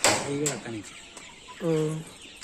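Chicks at a country chicken farm in Karimnagar, about fifty days old, give two bursts of high, rising cheeps and clucks close by, with faint rustling between and a brief quiet gap in the middle.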